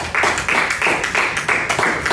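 A church congregation breaks into loud, close rhythmic clapping, even bursts about four per second with no voices over them.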